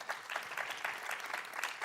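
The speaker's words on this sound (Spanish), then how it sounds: "Den un aplauso a mi hermano Roberto y a su esposa Adriana" A church congregation claps steadily for a couple, with a dense, even patter of many hands and no voices.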